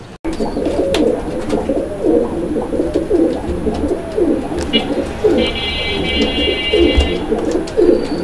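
Many pigeons at a pigeon sale coo continuously in overlapping low throaty calls, close and fairly loud, with a brief high electronic tone in the background.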